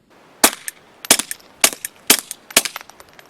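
Five sharp, quiet pops ring out in quick, even succession from an M&P 22 pistol fitted with a Sparrow .22 suppressor weighing 6.5 ounces and measuring 5 inches, each shot leaving a brief clatter.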